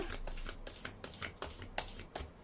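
Oracle cards shuffled by hand for a tarot reading, a quick, even run of soft riffling slaps close to the microphone, with no voice over them.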